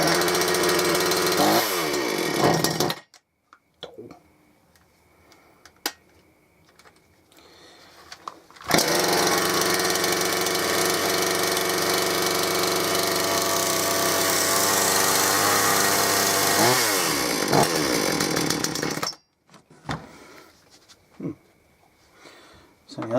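A Gardenline chainsaw, freshly cleaned with its carburettor serviced, starts and runs at a loud rasping buzz, cuts out, then revs again for a long steady stretch before stopping, with short pull-start rattles and quiet gaps between runs.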